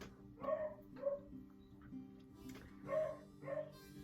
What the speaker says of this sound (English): if you excuse the beagle in the background